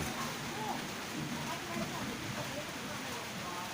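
Steady rain pouring down outdoors during a concrete driveway pour at a house, a dense continuous hiss filling the whole stretch without pause.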